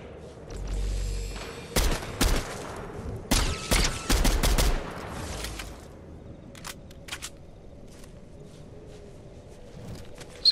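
Fortnite Zero Build gunfire, a cluster of sharp cracking shots and short bursts at moderate loudness, followed by a quieter stretch with a few scattered distant clicks and pops over a faint ambient hum.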